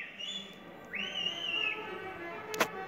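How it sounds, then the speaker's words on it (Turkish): People whistle outdoors, one faint rising then sustained tone against quiet background hiss, followed by a short knock. "Arkadaşlar şu an ıslık çalıyorlar."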